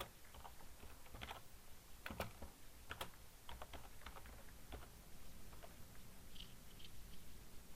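Quiet computer keyboard typing, a brisk scatter of soft key clicks with short pauses, faint and close, no voices.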